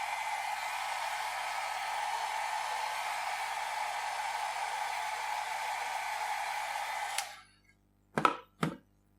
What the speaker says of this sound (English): And then I'm going to use my dryer to dry this dot.